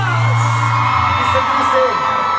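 A crowd of people yells and whoops loudly and continuously, a dense wall of shouting voices close by with no pauses.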